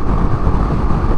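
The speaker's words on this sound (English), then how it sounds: "I'm sure you can hear the motor right now." A BMW G310GS motorcycle engine revving high at freeway speed, a dense steady drone mixed with heavy wind rush, loud and continuous over the brief moment.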